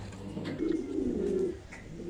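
Thai Titan meat pigeons coo at a breeding farm, giving one low, throaty coo of about a second, soft and close, with faint background noise and no speech.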